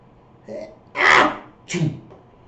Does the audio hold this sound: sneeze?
yes